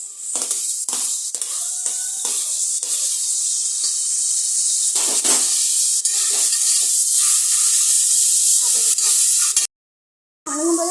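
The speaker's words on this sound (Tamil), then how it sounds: "அது கொஞ்சம் நல்லா வெந்த உடனே தக்காளி போட்டுக்கலாம்." Tomatoes hit hot oil in a pan of mint-heavy biryani chicken gravy, giving a loud steady sizzle and hiss with brief stirring scrapes, then cutting off abruptly near the end.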